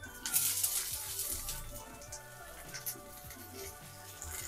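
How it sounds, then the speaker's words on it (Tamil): Onions frying in oil with mustard seeds, curry leaves and green chili, a steady soft hiss and crackle sizzling close by and continuously, with small bright pops scattered through it. "இது கொஞ்சம் வதங்கட்டும்."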